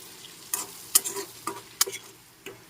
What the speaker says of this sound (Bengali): এখন ভালো করে নেড়ে চেড়ে কিছুক্ষণ ফ্রাই করে নিচ্ছি